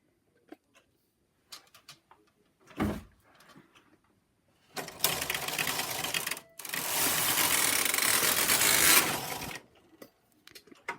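Brother knitting machine carriage knitting a skip stitch pattern on a double bed: two loud sliding rasps across the needle bed, the second longer, with scattered clicks and quiet gaps around them.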